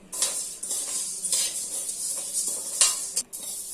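Fenugreek and cumin dry roasting in a pan for homemade sambar powder, with soft rattling and scraping strokes of a stirring spoon recurring every second or so, close and fairly quiet, no talk.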